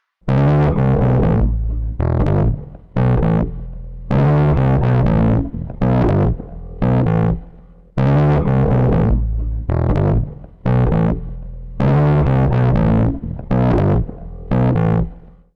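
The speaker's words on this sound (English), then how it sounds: "let's go with a fuzzy clipped overdrive sound with a little bit of room style reverb" A bass guitar through effects pedals plays a repeating riff with a fuzzy, clipped overdrive tone and a touch of roomy reverb, loud and close.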